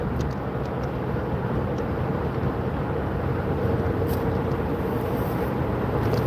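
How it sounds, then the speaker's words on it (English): A car driving on the road, a steady, loud, unbroken rumble of engine and tire noise heard from inside the vehicle with no talk. "Right now I'm driving to work."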